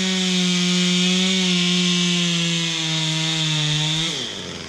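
A ported Husqvarna chainsaw clearing snags and small trees for a cabin site screams at high, steady revs, then the pitch drops sharply near the end as the engine eases off.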